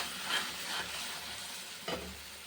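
Spice paste with turmeric, Kashmiri chilli powder and salt fries in a pan for a catla fish curry, giving a soft, steady sizzle broken by a few scraping stirs.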